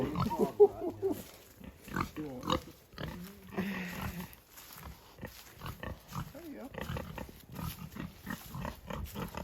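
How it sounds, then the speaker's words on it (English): A Hampshire pig on a farm gives soft grunts and snorts among other farm animals, mixed in with people chatting nearby. "That's a hemp pig."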